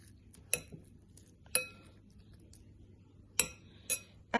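A spoon mixes half a teaspoon of sugar into a microwaved breakfast bowl, giving five sharp, bright clinks against the dish at irregular intervals with quiet gaps between them.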